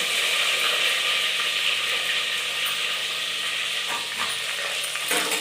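Onion and tomato are sautéed in a pan with a loud, continuous sizzle. A spoon stirs and scrapes against the metal with gritty rattles, and a few clunks sound near the end.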